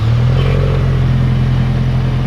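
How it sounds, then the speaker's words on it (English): A modified Ford Ranger pickup engine turns over by remote start and settles into a loud, steady low idle close by, with a brief rise in revs at the start. "gotta lock it first, and then you press the remote start twice"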